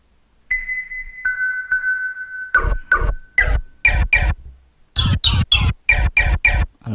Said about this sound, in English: So that actually is a bird sound, and it's just one single chirp.